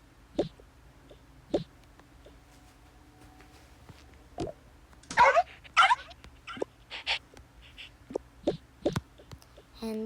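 Three dogs whimper and yip on a camping trip, short high whines and soft cries scattered between quiet pauses, fairly close, no talking.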